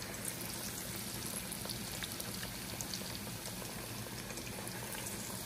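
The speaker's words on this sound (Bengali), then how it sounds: "আর পেঁয়াজুটা আমি ভাজি মিডিয়াম আর লোর মাঝখানে, কারণ পেঁয়াজু ভাজতে একটু সময় লাগে" Onion fritters (peyaju) deep frying in oil over medium-low heat, a faint steady bubbling hiss that continues evenly throughout, with no talk.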